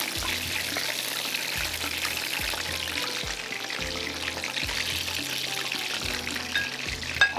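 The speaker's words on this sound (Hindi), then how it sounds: "बाकी को भी मैं डाल देती हूँ, स्लो फ्लेम पे आराम से फ्राई होते रहेंगे।" Garlic butter shrimp sizzle steadily on a slow flame, a soft continuous hiss and crackle with a faint rhythmic thumping beneath and no talking.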